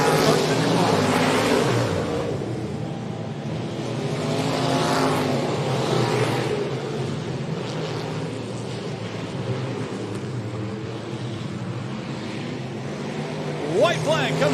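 Stock race cars lap Jacksonville Speedway, a continuous layered engine roar swelling and fading as the pack circles, with a commentator talking over it.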